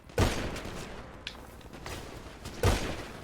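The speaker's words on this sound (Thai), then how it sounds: "ยิงปืนหน่อย" Gunfire in a shooting video game: two sharp, loud shots about two and a half seconds apart, each with a short decaying tail over a steady background hum.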